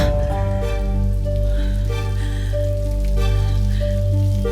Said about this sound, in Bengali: বৃষ্টিটা যে ভীষণ বেড়ে গেল দেখছি।